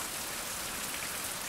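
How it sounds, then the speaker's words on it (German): Rain in the survival game Fountain of Youth pours down as a loud, even hiss of drops on the surface, constant and close throughout, without any speech. "der Regen ist ganz schön laut, wa?"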